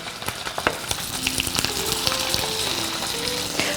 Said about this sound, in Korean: 한 면이 지글지글.